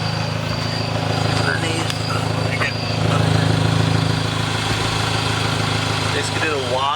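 Mini Countryman S R60 with a straight-pipe exhaust, a Y-pipe replacing the stock muffler, idles with a steady deep drone that rises briefly mid-way, close and loud.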